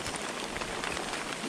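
Rain falling outdoors on a farm, a soft, steady hiss of drops on surfaces, faint and continuous without any voices.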